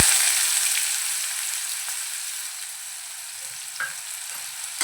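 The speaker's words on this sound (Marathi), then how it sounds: "आणि परतवून घेऊया कांदा नरम होईपर्यंत" Chopped onion sautéing in hot oil with bloomed cumin for a Malvani sprouted val birde, a steady close sizzle with a few soft stirring scrapes, no talking.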